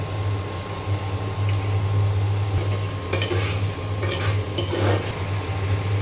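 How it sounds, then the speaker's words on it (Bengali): Spice paste sautéed and stirred in a pan for a chicken and tomato curry gives a steady sizzle with scraping stirs and a few sharper clatters, heard close over a constant low hum and without talking. "মশলা খুব ভালো করে আমি কষিয়ে নেব"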